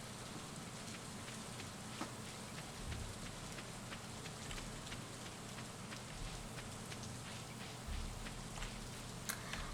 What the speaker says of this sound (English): our animals stay inside all day if it's raining, but Marnie's cows are just hanging out outside in the rain